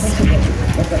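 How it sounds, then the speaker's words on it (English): Rain falls steadily in an outdoor park in Shillong, a dense continuous patter close around, without a break. "look at now it's raining"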